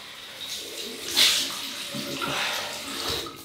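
Cold water runs steadily from a bathroom tap to rinse the face during a wet shave, a continuous close-up splashing rush that swells briefly partway through, with no talking.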